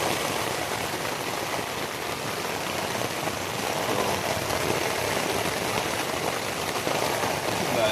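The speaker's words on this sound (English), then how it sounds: "So, heavy downpour we got here." Heavy thunderstorm rain pours down steadily on a tent, a dense hiss of drops drumming on the close fabric, unbroken and loud for the whole stretch.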